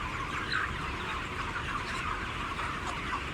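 A large flock of broiler chickens inside a commercial barn holding tens of thousands of birds fills the air with a constant dense chorus of clucks and chirps, with steady fan-like hum beneath and no talking.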